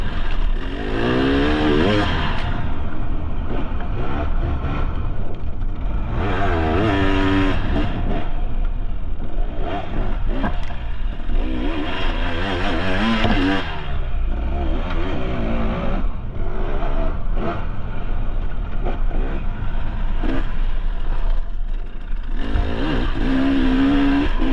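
A KTM XCW 300 two-stroke dirt bike ridden hard off-road, its engine loud and close throughout, revving up and down repeatedly in surging waves with no talking over it.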